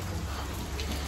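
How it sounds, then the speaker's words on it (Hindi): Steady rain patters down as a dense, even hiss with occasional nearer drops, continuous through the brief moment without talk. "ये सी फिर से बारिश होने लग गई, फोन भी पूरा भीग गया"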